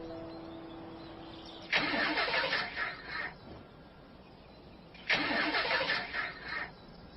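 Car engine that won't run being cranked twice, each attempt a loud grinding starter whir lasting about a second and a half, separated by a quiet gap, with no catch or idle following.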